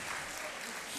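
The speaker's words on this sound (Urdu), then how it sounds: "بھرپور تالیاں بجاتے رہے تاکہ ایک مشاعرے کا ماحول" Dense, steady audience applause at a mushaira poetry gathering, the Jashan-e-Baharan event in Khushab, filling the moment with continuous clapping.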